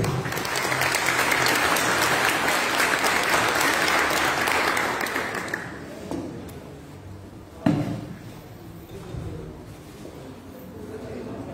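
An audience claps together at a ceremony, a dense, loud applause that lasts about six seconds and then dies away, leaving room noise broken by a few knocks and bumps.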